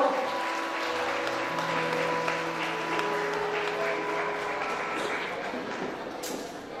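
Audience at a parents' guidance session applauds steadily during a handover moment, a broad wash of clapping from a crowd with voices and a sustained tone beneath, slowly fading toward the end.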